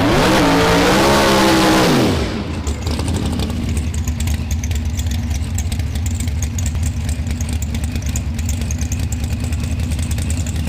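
A no-prep drag race car launches loudly in the first round, its engine screaming up through the revs for about two seconds before cutting off, followed by a steady, noisy crowd and track ambience.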